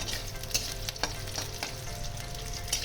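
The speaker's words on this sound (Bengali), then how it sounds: "এখন আমি এই এটা একটু সাদা তেল দিয়ে আমি এইগুলো একটু ভেজে নেব" Onions fry in white oil in a pan, producing a soft, even sizzle with a few light spatula taps, close by and moderately quiet.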